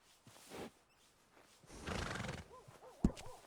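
A horse in Red Dead Redemption 2, a warmblood, whinnies and snorts through a rising, wavering neigh, with a sharp thump near the end; game ambience sits underneath and no one speaks.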